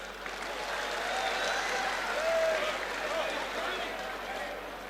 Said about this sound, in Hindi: और अब इसके समापन पर तालियां बजनी चाहिए।